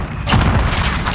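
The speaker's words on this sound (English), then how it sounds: "Enemy cruise missile. Take cover." Cruise missile explosion in Call of Duty Modern Warfare, a single loud, close boom that bursts suddenly and leaves a rumbling, noisy tail.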